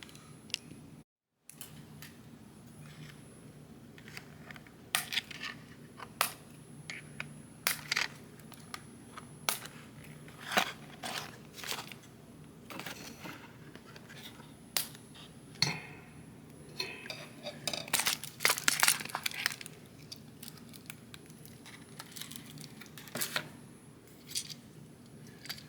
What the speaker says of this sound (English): Now let's cut the figure loose.